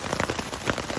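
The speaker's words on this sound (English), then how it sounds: "As you can tell, it's absolutely pissing down." Heavy rain while hiking the West Highland Way near Loch Lomond, a dense close patter of drops pelting surfaces, steady and loud with no talking.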